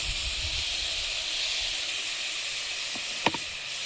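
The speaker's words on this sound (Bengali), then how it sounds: "এবারে নিব আঁচে ভালোভাবে ভাজা ভাজা করে নেব" Cauliflower, beetroot, spring onion, green chilli, peas and shrimp fry in a pan over low heat, giving a steady sizzling hiss with a couple of brief clinks near the end.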